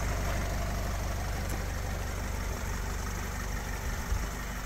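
Vauxhall Vivaro Crewcab van engine running steadily and continuously, a low, close rumble with a deep engine hum and no talk over it.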